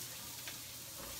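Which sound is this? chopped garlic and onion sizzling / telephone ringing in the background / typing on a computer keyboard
chopped garlic and onion sizzling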